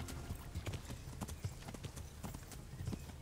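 Horse hooves clop in a quick, uneven rhythm on hard ground in the medieval video game Kingdom Come: Deliverance, steady and fairly close throughout.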